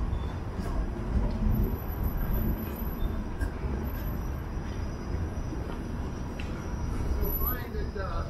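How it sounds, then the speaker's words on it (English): Toronto streetcar rumbling past at a downtown streetcar loop, a low steady roll of wheels on rail with faint high squeals from the wheels, heard from street level. "streetcar loop"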